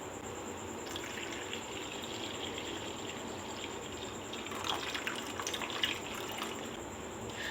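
Mint juice pours into melted sugar in a pan, a steady watery gush with a constant hiss that swells briefly near the end.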